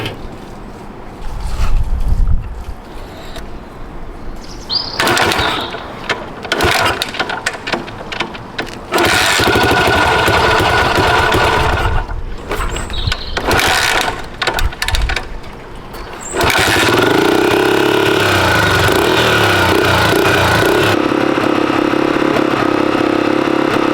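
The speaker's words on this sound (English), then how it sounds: "this is the first time for the start of the Honda XL250R 1982" A 1982 Honda XL250R motorcycle, left unstarted for over 15 years, cranks and coughs in loud bursts before firing and settling into a steady, close idle.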